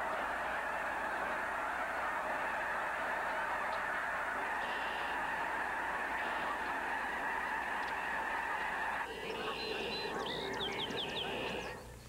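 A large flock of geese honks continuously at a distance on a wildlife refuge near Syracuse, New York, a dense chorus of overlapping calls, with a few nearer honks standing out toward the end.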